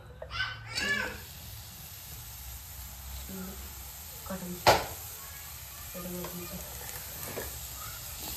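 Onion dropped into a pan for a Marathi methi rassa vegetable curry sizzles faintly under scattered stirring clinks, with one sharp utensil strike and a voice in the background.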